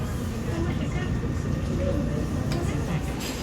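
Steady rumbling ride inside a moving train in Taiwan, a continuous low roar with rattles and a couple of clanks, with people talking quietly over it.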